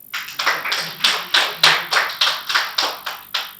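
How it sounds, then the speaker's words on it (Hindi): Rhythmic, unison clapping from an audience at a Hindi kavi sammelan poetry gathering, about a dozen sharp, evenly spaced claps in a steady beat, loud and close with no talk. "आप सबसे निवेदन करता हूँ मेरे स्वागत में पहली बार जोरदार तालियां बजाइए"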